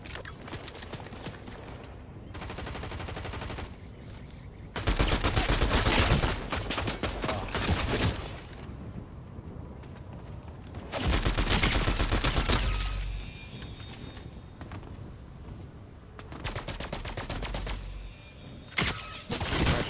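Bursts of video game gunfire during a last-man-standing match, rapid automatic volleys in several loud clusters separated by quieter gaps with scattered single shots.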